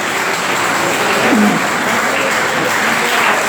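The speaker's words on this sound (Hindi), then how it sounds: "तालियों की आवाज तेज हो जानी चाहिए।" A seminar audience at a university honouring ceremony claps loudly and continuously, the applause holding a full, steady roar from start to finish.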